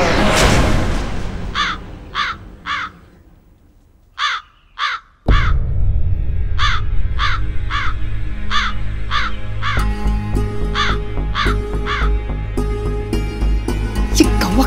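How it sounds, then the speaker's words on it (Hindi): A persistent crow caws in repeated short calls, loud and near, first in clusters over a quiet room and then continuing over steady background noise and faint voices during a home havan ritual. "ये कौवा कब से परेशान किए जा रहा है"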